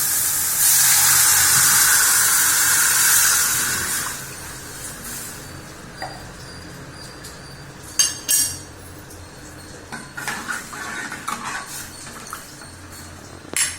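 Water pours into a hot pan of cooked tomatoes with a loud hissing sizzle for several seconds, followed by light clinks of a utensil against the pan.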